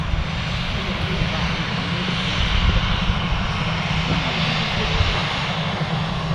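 A small aircraft taxiing out to runway 05 left at Manchester Airport, a steady low engine drone with broadband rumble heard continuously from a distance, no clear changes in pitch or level.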